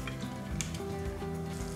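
Butter and oil sizzle steadily in a frying pan ahead of an omelette, a continuous crackling hiss with faint clinks, close and even throughout.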